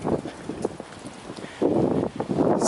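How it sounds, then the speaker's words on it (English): Gusty wind buffets an outdoor microphone, sounding as uneven rumbling bursts that swell loudly after a quieter stretch, with no voices. "It's quite windy today"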